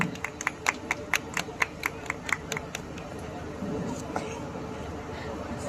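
An audience at a college fest poetry show welcomes a performer with a quick run of rhythmic claps, which fade after a few seconds into murmuring voices and room noise.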